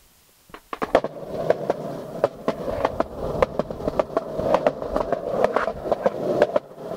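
Skateboard rolling over pavement, a run of sharp rhythmic clacks over seams with a rising rolling rumble underneath, fairly close and alone without talking.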